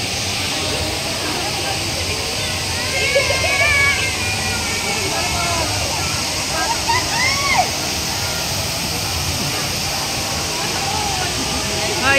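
A waterfall at Bato Spring in San Pablo sends up a constant broad rush of falling water, with splashing from swimmers in the river and voices of people talking nearby over the roar.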